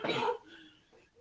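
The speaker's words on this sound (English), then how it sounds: "She's coughing." A short burst of coughing from a woman with a cold, loud and close, over about a third of a second, then quiet room tone with faint low sounds.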